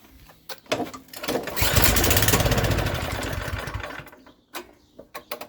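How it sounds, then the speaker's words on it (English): A snowblower's small engine catches after a couple of short starting attempts and runs loud and rough on choke for a few seconds, then cuts out, leaving only scattered clicks and knocks. "we'll put the choke on"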